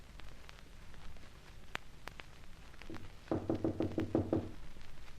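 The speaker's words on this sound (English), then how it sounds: "you knock on Boyd's door, a sort of urgent knock." Urgent knocking on a door in an old radio drama: after a few scattered thumps, a rapid run of about eight firm raps comes close and loud, with no talk.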